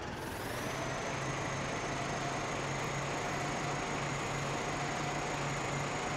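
A steady, droning farm-vehicle engine from Landwirtschafts-Simulator 15 hauling wood chips toward a sawmill, a constant mid-level hum with a faint high whine, unbroken and without talk.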